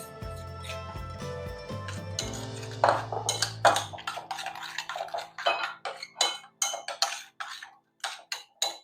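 Chopped apples being stirred with chia seeds in a bowl, a spoon clinking and scraping against the dish in a steady run of sharp, close taps that grow more rhythmic toward the end.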